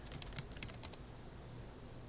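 A quick burst of keystrokes on a computer keyboard as a search is typed, clicking rapidly for about a second before fading into quiet room tone.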